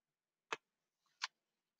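Two crisp mouse clicks, sharp and faint, sound about a second apart in a quiet room while someone edits in the SnatchBot chatbot editor.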